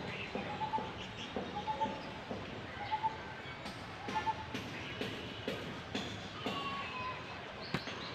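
Birds call around a rural yard where goats are tethered, with repeated short chirps and soft cooing notes at a moderate distance over a steady outdoor hush, punctuated by a few faint clicks.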